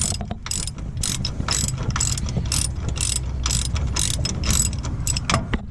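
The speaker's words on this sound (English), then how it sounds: "Use your socket. I did it with a socket." Ratchet socket wrench loosening a rear shock bolt on a 2008 Ford Focus, rapid repeated close clicking in bursts over a low mechanical hum, no speech.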